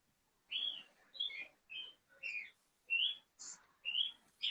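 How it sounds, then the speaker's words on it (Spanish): Small birds chirp outdoors in a quick series of bright, separate calls with short pauses between them, fairly close and clear over a quiet background. "los pajaritos que suenan detrás tuyo les encanta el sonido del agua cayendo"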